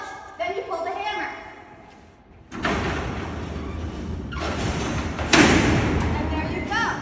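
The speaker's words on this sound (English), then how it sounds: "Our cell doors have operated." Heavy Alcatraz jail cell doors, each about 230 pounds, are worked through a clutch-and-lever mechanism: a grinding, sliding rumble surges in close and loud with sharp metallic clunks and thuds, after a brief quieter mechanical rattle.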